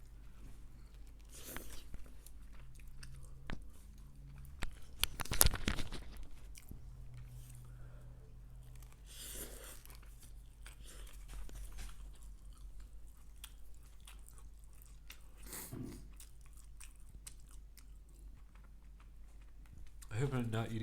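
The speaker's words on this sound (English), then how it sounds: "I hope I'm not eating too loud." Someone eating up close, with intermittent crunchy bites and chewing scattered over a quiet indoor background.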